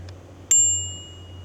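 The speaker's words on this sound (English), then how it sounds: "it has a bell. Every girl must have a bell on her bike." A bicycle bell on a hybrid bike gives a single sharp ding after a faint tap. The bright metallic tone rings out and decays over a steady low hum, with no talking.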